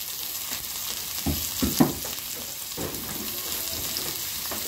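Turmeric and chili powder are stirred in a frying pan, a soft continuous sizzle with a few scraping stirs and light knocks, close and without talk.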